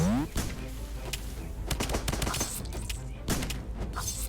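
Gunfire in Starbound during a boss fight, rapid bursts of sharp shots and a few heavy thumps, with a voice talking over the action.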